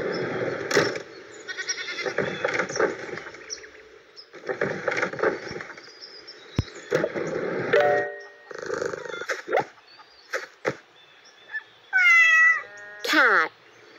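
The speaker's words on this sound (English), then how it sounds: "Cat." Several cat meows spaced through the stretch, some sharp and rising, interleaved with other short animal calls and a few clicks, close and fairly loud.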